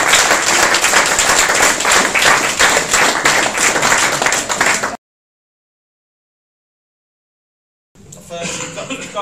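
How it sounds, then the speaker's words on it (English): Audience round of applause at an open mic night in Birmingham, loud and sustained for about five seconds, then a gap of silence, followed by more clapping with voices underneath. "So let's give them a round of applause."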